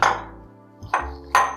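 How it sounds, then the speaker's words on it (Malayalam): Chopped vegetable pieces for Kerala sambar dropped into a metal cooking pot, three separate clanking, ringing impacts with short metallic decay between them, close and alone. "അതിലേക്ക് നമ്മൾ ഈ അരിഞ്ഞു വെച്ചിരിക്കുന്ന കഷ്ണങ്ങളെല്ലാം ഇടുക."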